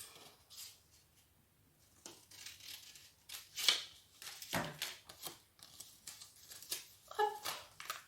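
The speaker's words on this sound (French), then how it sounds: "on va couper donc sur notre feuille, notre épaisseur, du bas jusqu'à l'intersection haut. Avec nos ciseaux." Scissors snip through a folded sheet of origami paper in short, quiet cuts with rustling handling in between, close and soft, with no talking.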